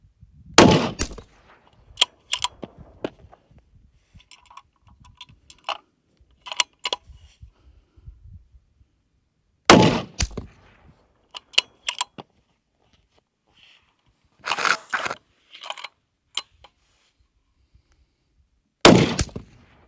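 Four loud, sharp rifle shots from a highly accurate chassis rifle at an outdoor range, spaced several seconds apart. Each report rings out briefly, with quieter clicks and handling noises in the gaps between them.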